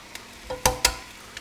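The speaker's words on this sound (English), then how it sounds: "Just crack it straight into the pan." Eggs cracked straight into a frying pan for an omelet, a few sharp close taps and cracks in quick succession with light clicks around them, no talk.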